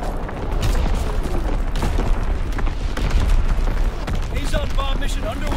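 Fighter aircraft strafing run in a video game, a dense crackling barrage of rapid booms and bursts that keeps up steadily, with faint chirpy radio-like tones near the end.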